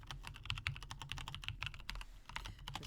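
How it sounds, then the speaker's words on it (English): Someone types a password on a computer keyboard in a quick, close run of clicky keystrokes with brief pauses between bursts. "This is the part where I try not to say my password out loud while I'm typing it."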